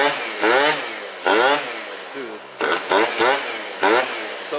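A Phantom F12 pit bike engine, freshly fixed throttle cable, revving in several sharp bursts that rise and fall, loud and close, with short pauses between.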